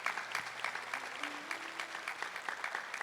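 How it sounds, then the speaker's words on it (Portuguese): A church congregation applauding a fellow member, a dense, even patter of many hands clapping at moderate distance, fairly quiet and sustained, with a faint low tone humming briefly underneath. "Eu gostaria que nós pudéssemos aplaudir mais uma vez a nossa irmã que trouxe um testemunho tão bonito."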